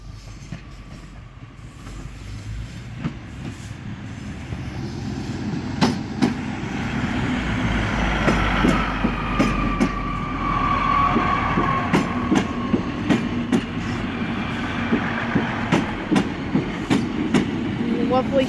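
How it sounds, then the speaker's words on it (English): A ScotRail Class 153 diesel unit pulls into Garelochhead station, its rumble swelling from distant to near with rhythmic wheel clicks over rail joints, steady and fairly loud at the end. "Here comes the ScotRail Class 153 bike train approaching Garelochhead station on Sunday the 20th of June."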